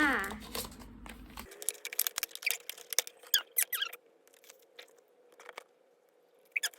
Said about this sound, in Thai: กินข้าวเหงาเหงาคนเดียวจ้า กินเยอะมากจะบอกว่ากินเยอะมาก